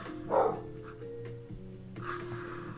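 An old, deaf, nearly blind dog barks at nothing indoors, giving a loud close bark followed by softer yips and whimpers over a steady background hum.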